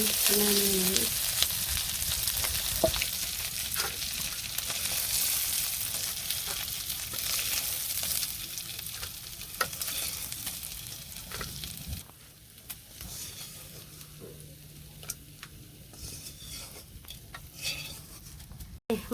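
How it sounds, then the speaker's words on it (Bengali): Fish frying in hot oil in a home kitchen, a steady, close sizzle that runs throughout and grows quieter and sparser in the later part, with a few faint clinks. "মাছ ভাজা হয়েছে"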